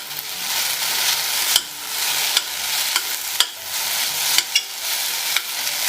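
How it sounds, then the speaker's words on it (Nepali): Sliced onion is stirred into okra frying in a pan, a continuous close sizzle broken by several sharp spatula scrapes and knocks at uneven intervals. "स्लाइस गरेर काटेको प्याजलाई मैले हालेर चलाए।"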